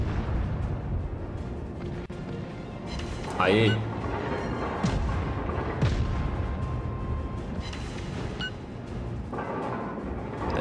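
Cruiser gunfire from the cruiser Erie in World of Warships, with deep booming salvos and rumbling explosions over a busy battle backdrop while a player talks over much of it.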